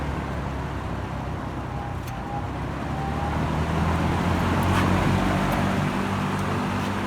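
A two-speed lawn mower motor runs with a steady whirring drone that swells slightly as it slowly spins up, sounding sluggish and continuous with no talking.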